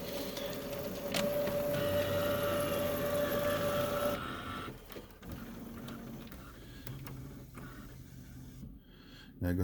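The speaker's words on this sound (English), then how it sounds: "It slides back over to the service station area where it will clean the print heads." An HP Officejet Pro 8610 inkjet printer whirs and hums as its carriage slides across to the service station to clean the print heads, with a steady mechanical drone followed by softer clicks and shuffling.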